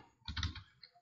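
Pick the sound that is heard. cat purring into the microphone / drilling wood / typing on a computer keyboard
typing on a computer keyboard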